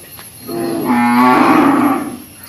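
One long, loud moo from a bullock or ox at a livestock market with calves and cattle, rising and fading over about two seconds, close by with no talk over it.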